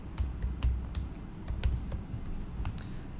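A computer keyboard is typed on while HTML code is written, a close run of light, irregular key clicks over about three seconds, with no voices.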